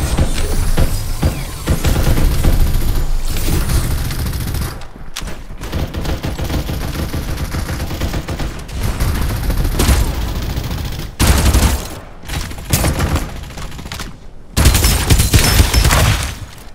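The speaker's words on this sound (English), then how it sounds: "Reloading! Firing will commence shortly." Dense automatic and rapid gunfire from the battle royale shooter Farlight 84, loud and nearly continuous with bursts, brief pauses and a few heavy booms mixed in.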